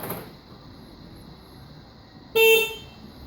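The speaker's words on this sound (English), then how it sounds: "I was able to add audio to the lock and unlock" A 2009 Mini Cooper gives a single short, loud horn-like chirp as its custom lock/unlock feedback sound, ringing out clearly over faint background hiss.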